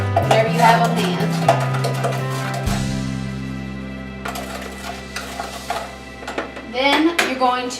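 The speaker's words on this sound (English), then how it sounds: "you're going to mix those up with a spoon or whatever you have on hand" Spoon stirring cinnamon and sugar together in a bowl, light scraping and clinking taps against the bowl, scattered and close, mixed with background kitchen tones and faint humming.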